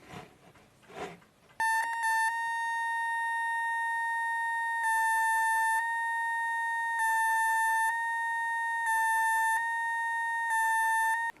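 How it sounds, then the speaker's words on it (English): A steady electronic square wave tone passed through a resistor-capacitor filter hums as a constant buzzy pitch, cutting briefly in and out with small level dips throughout. "So you can see our resistor capacitor has kind of knocked the edges off the square wave"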